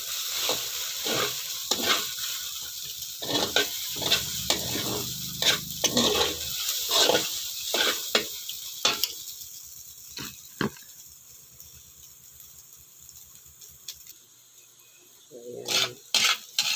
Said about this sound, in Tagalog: Napakaingay nung makapal na siyansi.